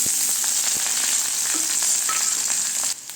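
Onion, curry leaves, dried red and green chillies sauté in hot oil in a pan, giving a loud, continuous close-up sizzle that drops off sharply near the end.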